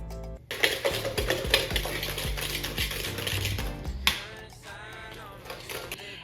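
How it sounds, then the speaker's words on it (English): Unsalted butter and sugar are creamed together vigorously in a bowl, giving rapid clattering and scraping strokes, then a brief lull and a softer, smoother mixing texture. "Then we cream together our butter and sugar vigorously."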